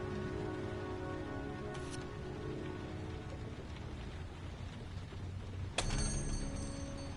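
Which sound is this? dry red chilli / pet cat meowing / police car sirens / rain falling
rain falling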